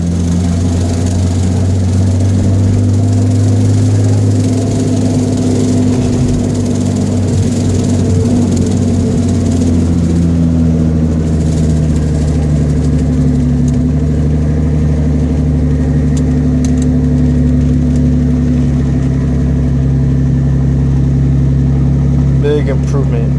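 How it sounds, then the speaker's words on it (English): A 1970 Datsun 240Z with a turbocharged L28ET engine idling steadily, a loud, close, continuous low engine rumble with a slight waver partway through. "Idle still holding steady."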